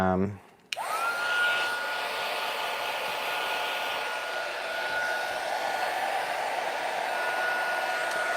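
A hair dryer switches on after a brief clunk and blows steadily for several seconds, a loud close rushing whir drying a craft piece, with no talk over it.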